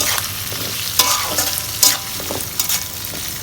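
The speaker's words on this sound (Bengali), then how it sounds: "রসুন পেঁয়াজটা একটু ভাজা হবে," Garlic and onion frying together in a pan while cooking duck, giving a continuous sizzle broken by a few brisk scraping stirs, close up and with no voices.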